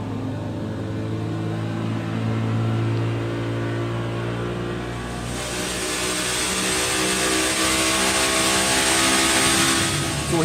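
A Hennessey Fury 6.6-liter twin-turbo V8, the Venom F5 engine, runs steadily on an engine dyno, a loud, close, continuous harmonic drone that climbs in pitch and turns harsher and brighter midway.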